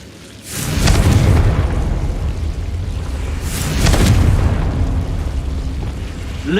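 Two heavy booming blasts of the Confringo explosion spell in the video game Hogwarts Legacy, one near the start and one midway, each rolling into a loud, rumbling roar.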